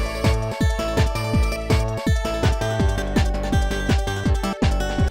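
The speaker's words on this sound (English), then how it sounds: "Tengu Man's stage on the PlayStation" Tengu Man stage music from Mega Man 8 on the PlayStation plays, an upbeat driving tune with punchy repeating bass hits and bright layered synth melody, steady and alone.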